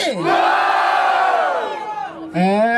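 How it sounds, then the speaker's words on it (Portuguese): A crowd at a rap battle roars and whoops loudly, with sweeping shouts that rise, hold, dip, then swell again in a second burst. "Barulho para as rimas do Christian"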